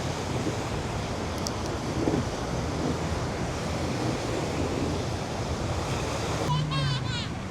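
Strong steady wind gusts across an open beach during an international kite festival in Pattaya, a loud continuous rushing roar with surf-like wash throughout and a few faint chirps near the end.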